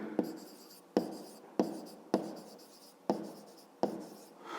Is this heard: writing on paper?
yes